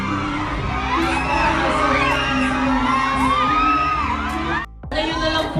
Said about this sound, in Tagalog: ngayon na lang ulit siya nakarinig ng ganun kalakas na hiyawan